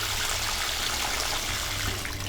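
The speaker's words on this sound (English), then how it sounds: "we're pretty ready to water him in, and we'll just wash off any dust or residue that's on" Steady water spray washing down a newly planted lemon tree, a continuous broadband hiss like a soaking rain shower, close and fairly loud throughout with no talking.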